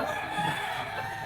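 A bull stag gamecock crows in a short, sustained call, heard fairly close with steady level throughout.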